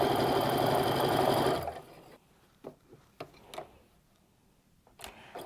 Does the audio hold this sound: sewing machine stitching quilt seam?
yes